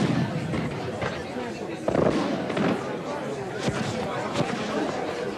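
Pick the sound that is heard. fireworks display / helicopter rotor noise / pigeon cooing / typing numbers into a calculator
fireworks display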